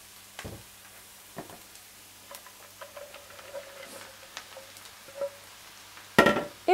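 Onions and vegetables for pad thai frying in a pan and being stirred, a faint steady sizzle with soft scraping stirs and a louder clatter near the end.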